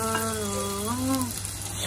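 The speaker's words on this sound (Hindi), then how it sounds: "अभी इसको ये प्याज को फ्राई हो जाएगा ना" Onions frying in hot oil, a close, steady sizzle filling the short moment while a voice briefly sounds over it.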